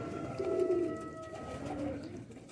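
A female flying pigeon coos softly in a few low, rolling calls, fairly faint and close, with quiet background sounds around it.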